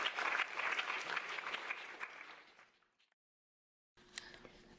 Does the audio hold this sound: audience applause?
yes